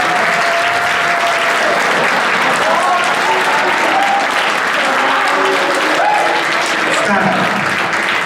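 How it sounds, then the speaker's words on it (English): Audience applause at a convention opening ceremony, loud continuous clapping from a large crowd with cheers and voices mixed in. "Please, round of applause for him."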